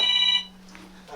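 A telephone rings with an incoming call on a talk show, a short bright electronic ring burst that cuts off after about half a second, followed by quiet room tone and a faint voice.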